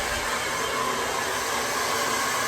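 A hair dryer blows steadily on a non-surgical hair replacement system, making a constant close-up whooshing hiss with no other sounds.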